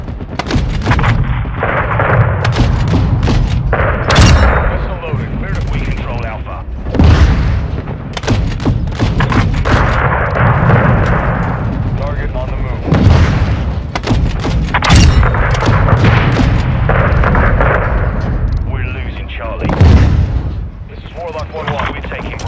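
In the Modern Warfare II video game, missile launches and explosions fill a battle scene with dense booming blasts and rapid gunfire. Loud and continuous, it mixes with radio chatter and shouting voices.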